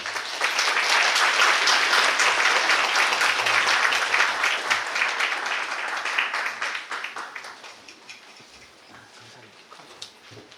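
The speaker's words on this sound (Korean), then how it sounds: "박수 환영하겠습니다." A church congregation at a Korean church retreat's Sunday gathering bursts into loud, sustained applause in welcome, steady at first, then thinning and fading over the final seconds.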